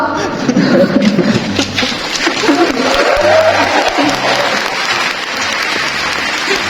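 Crowd at an oath-taking ceremony for new civil engineers in December 2023 breaks into loud applause, mixed with scattered chuckles and a murmur of voices.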